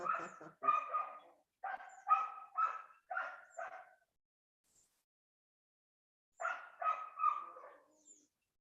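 Dogs shut in and unhappy give a run of sharp barks and yelps in quick clusters, stop for a couple of seconds, then start again, fairly close and loud.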